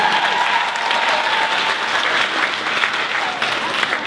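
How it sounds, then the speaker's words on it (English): A large audience at a poetry recitation competition claps steadily and loudly after a round of performances, a full, even stretch of applause lasting several seconds with no voices over it. "let's hear a big round of applause for all of our"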